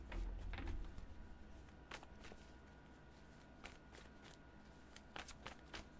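Tarot cards shuffled by hand, a rustling run of quick riffs and taps with brief pauses, close and fairly quiet, no talking.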